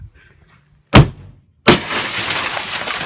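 Glass smashing on a Ferrari replica car: a sharp crack near one second, then a louder burst of shattering at about 1.7 seconds that tails into a sustained crunching, tinkling wash of falling glass.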